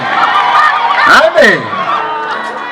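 A church congregation at a mission gathering claps and cheers for Jesus, a loud, dense crowd roar with shouting voices rising and falling, and a preacher's voice calling out over it.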